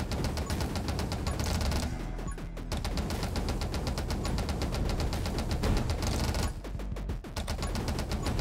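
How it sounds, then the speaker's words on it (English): Flamethrower firing continuously in the game 20 Minutes Till Dawn, a loud rapid stream of dense repeated bursts with two short dips before it resumes. "Pretty good fire rate now on the flamethrower"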